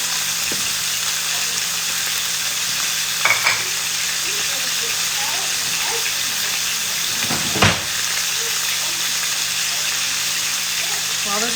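Chicken fries in a pan under a splatter cover, giving a constant broad sizzle with a couple of brief clanks and stirring sounds, and no talk.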